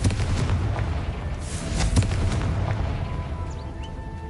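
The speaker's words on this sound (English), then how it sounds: "Confringo." In a Harry Potter video game, a Confringo spell sets off an explosion with a booming blast and crackling bursts, followed by lingering rumble and scattered pops, with no talking.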